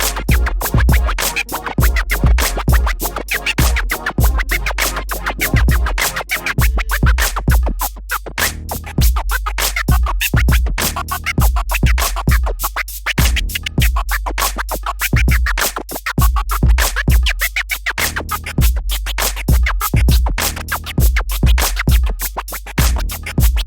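A DJ jog cutter effect on a Pioneer DDJ-400 controller chops vinyl-style scratch cuts in rapid rhythmic bursts over a steady, loud dance beat with pounding bass, continuous throughout.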